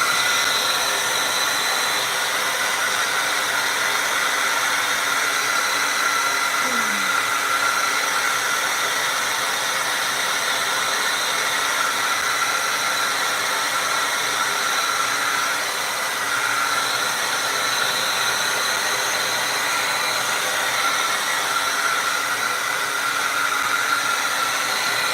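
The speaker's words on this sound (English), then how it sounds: "dry all of this off with a hair dryer" A hair dryer blows steadily on wet paint on a painted Maine Coon cat picture, a continuous close, loud airy whir with no breaks and no talking.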